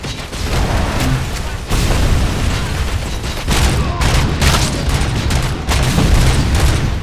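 Heavy game combat in RoboCop: Rogue City, where a gang of bikers fires a grenade launcher. Repeated booming blasts and dense gunfire pound away almost without pause, loud and close.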